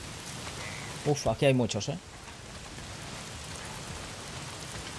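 Steady rain falls in the video game Days Gone, a dense, even hiss filling the scene from start to finish, with someone briefly speaking over it.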